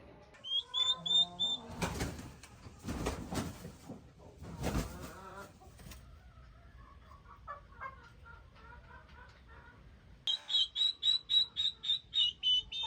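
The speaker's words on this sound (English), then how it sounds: "They're squawking a bit because it's a new change again." Young farm turkeys squawk and chirp close by in repeated shrill bursts, with rough flurries of louder calls in the middle and a run of rhythmic high peeps near the end.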